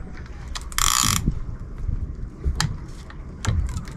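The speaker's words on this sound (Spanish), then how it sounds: "Otra función, la carraca." A fishing reel's ratchet clicker gives a quick burst of sharp, close mechanical clicks, followed by a few scattered softer clicks and handling noises.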